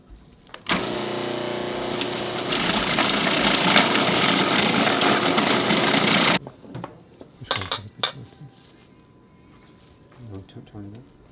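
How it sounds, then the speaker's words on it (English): A food processor fitted with its shredding disc grinds loudly and continuously for about six seconds while shredding apples, then stops abruptly, followed by clatter and a speaking voice. "So on the food processor, this is the shredding tool."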